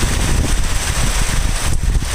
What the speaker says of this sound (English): Just a little bit of wind